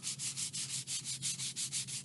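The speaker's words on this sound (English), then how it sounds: "You see I'm only sanding maybe for 15," Light back-and-forth sanding on a balsa wood glider wing makes a steady hissing rasp, about ten even strokes in two seconds, close and fairly soft with no voices.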